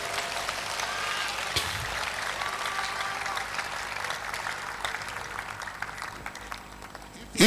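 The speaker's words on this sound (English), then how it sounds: "let's give the Lord a resounding clap up from somebody" Congregation applause at an evening session of a miracle convention, a steady broad wash of clapping that holds for several seconds and tapers slightly near the end.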